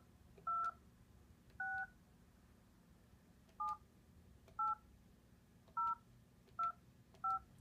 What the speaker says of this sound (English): So I'm going to enter the code that I have for one of my phones.